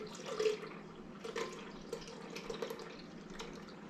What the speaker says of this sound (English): First thing I do, I drain the juice.